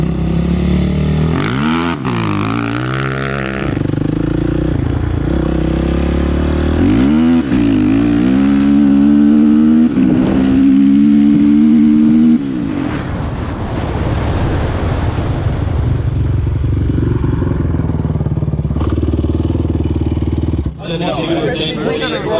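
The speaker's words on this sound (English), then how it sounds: "I am going to send it this time. I'm gonna try and launch it as hard as I can" A dirt bike on street tires launches hard down a drag strip, its engine revving up in sharp rising bursts and then holding a steady loud drone. Wind buffets the microphone heavily throughout.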